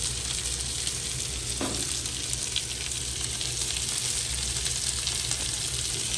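Melted butter and seasoning sauce sizzling on a Blackstone griddle during a hot wings cook, a continuous loud close frying hiss with a brief clink partway through.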